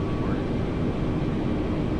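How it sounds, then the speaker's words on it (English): A simulated airliner engine in Microsoft Flight Simulator 2020 gives a brief, steady, broadband roar with a deep rumbling low end as the throttle comes up. "Hear the plane increasing the throttle"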